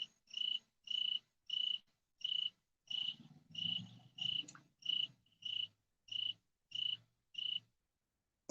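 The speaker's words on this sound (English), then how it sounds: "Listening to the crickets" Crickets chirping at night beside a fire pit, a steady series of about a dozen evenly spaced, pulsing chirps, moderately close, with faint low crackling and rustling underneath.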